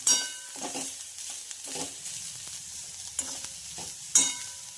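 Masala and ingredients for chickpea usal fry in a pan with very little oil. Short bursts of sizzling and spoon-scraping stir strokes come and go, with a sharper clatter near the end and no voices.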